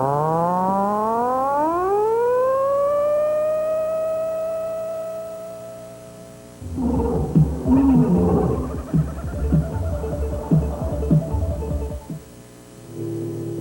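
A siren built to chop an air stream into pulses starts as a low tone and sweeps rising harmonics up to a steady howl, then gives way to a rougher, stuttering burst of choppy noise before a brief return of the hum.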